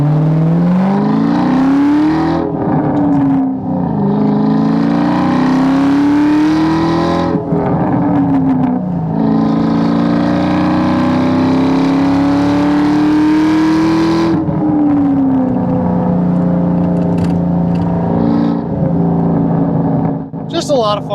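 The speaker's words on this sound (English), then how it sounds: "I do like to get a little exhaust sound out of them." A 2001 Ford SVT Cobra's exhaust roars loudly up through the gears, engine pitch climbing, dropping at each shift, then climbing again over a long sustained run.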